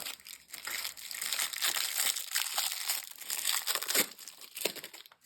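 Plastic stationery packaging crinkles and crunches continuously up close while being cut open, a busy, rustling crackle that rises and falls without pause.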